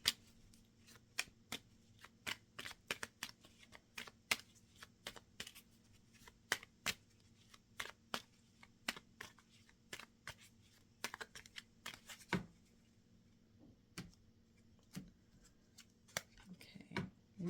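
Moon tarot cards are shuffled by hand, with repeated crisp riffling and slapping bursts in an irregular rhythm, close and quiet against a faint background hum.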